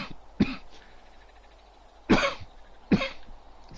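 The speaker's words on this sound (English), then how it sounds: "Don't mean to cough like that." Three separate coughs from one person, the first short and sharp, then a pause before two heavier, throaty coughs about a second apart, close and fairly loud over a quiet background during a LittleBigPlanet 3 game session.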